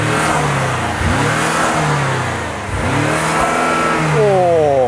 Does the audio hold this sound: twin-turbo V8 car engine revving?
yes